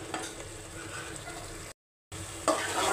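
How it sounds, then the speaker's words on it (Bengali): Spice masala with chili powder and salt fries in a pan with a soft, continuous sizzle and light stirring, broken by a brief gap of silence before the frying resumes. "মরিচের গুঁড়া দিয়ে দিলাম, একটু লবণ দিয়ে দিব। ভালো করে মশলাটা কষানো হলে তারপরে মাংসটা ছেড়ে দিব।"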